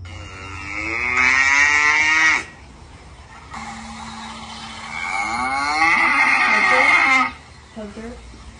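Recorded cow moos played back nearby, two long loud bellowing calls separated by a quieter pause, followed by a brief faint voice at the end.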